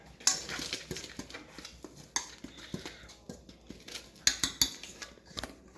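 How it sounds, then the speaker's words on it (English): Whisk or spoon clinking and scraping against a bowl as cookie batter with cornstarch is mixed, in quick irregular bursts of metallic ticks and taps, close and moderately loud with no talking. "Now, we're going to mix this together."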